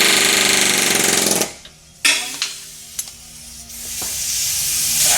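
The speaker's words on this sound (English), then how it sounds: "We'll preheat the end of the piece and weld another nut to it." A welder lays a bead to attach a nut onto the broken end of a preheated piece against a cast iron block, a loud crackling hiss that cuts out, then sparse clicks and pops before the crackle builds again.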